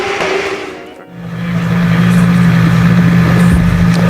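Drift cars at the Iron Drift King event, including Adrian Petricevic's, rev hard, producing a loud sustained engine drone that briefly dips and then surges back to a steady high-revving roar.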